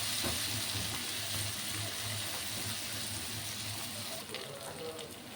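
Onion and tomato sautéing in a pan for potato rice: a continuous soft sizzle with occasional clinks, while a person talks over it.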